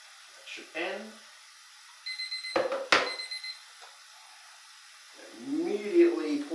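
A darkroom-style film timer beeps in a short burst of electronic alarm tones partway through, while someone talks quietly before and after; it marks a step in developing 35mm and 120 film at home.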